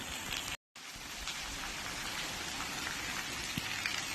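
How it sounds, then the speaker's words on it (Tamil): Heavy evening rain pours down in a village, a dense, steady hiss of drops hitting surfaces that continues without pause apart from a brief dropout near the start. "ஓகேங்க, மழை அதிகமாக வந்துக்கிட்டே இருக்குது."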